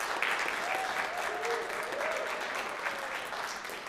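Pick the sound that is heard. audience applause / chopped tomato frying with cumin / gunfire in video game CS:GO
audience applause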